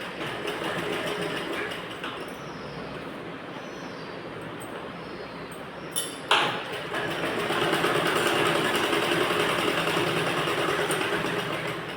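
A sewing machine runs steadily, stitching the side seams of a net fabric blouse, with a brief clack partway through before the motor continues at a slightly louder, even hum.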